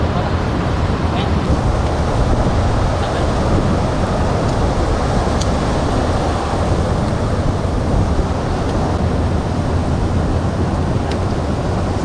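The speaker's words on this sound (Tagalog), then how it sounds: "Sarap pakinggan ng huni ng tubig oh." River water rushes steadily at a riverbank, a continuous broadband roar with faint wind buffeting the microphone and no breaks across the whole stretch.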